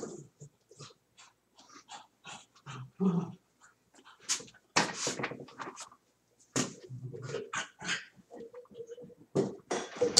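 A pet dog pants, sniffs and shuffles around indoors in short irregular bursts with gaps between, close to the listener and fairly quiet, with no talking.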